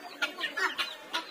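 A domestic rooster and hens cluck close by in a quick series of short, sharp bursts, roughly five clucks in a little over a second, with no talk over them.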